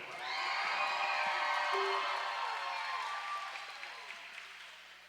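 A crowd at a junior roller derby bout between the Bad Apples and the Skaters of Doom breaks into applause and cheers that swell quickly, hold for a few seconds, then fade out.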